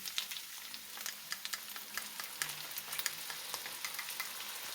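Mongolian chicken fries in a pan as sauce goes in, giving a soft, steady sizzle broken by small crackles and pops, with no voices.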